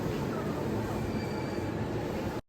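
A train in Japan rolls steadily past at close range, giving a constant loud rumble and hiss with faint high wheel squeal throughout before cutting off abruptly.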